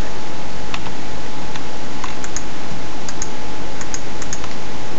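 Keys on a computer keyboard tapped while working in Blender, producing a scattered series of sharp, close clicks over a steady, loud background hum, with no talking.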